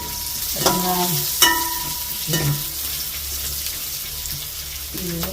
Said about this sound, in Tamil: வெங்காயம் வதங்கி நல்ல பொன்னிறத்தில் வந்துட்டு